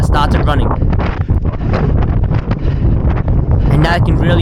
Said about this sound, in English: And now I can really hear the wind picking up.